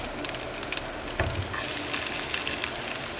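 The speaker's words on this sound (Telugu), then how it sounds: "పోపు వేగింది ఇప్పుడు ఇందులో మనము వెల్లుల్లి వేసుకోవాలి" Tempering spices sputtering and crackling in hot oil, a steady close sizzle that grows a little denser and louder partway through as garlic is added.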